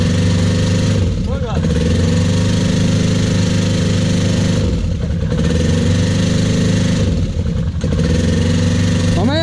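An ATV quad engine revs hard at full throttle, a loud, close, sustained roar with brief dips in pitch every few seconds.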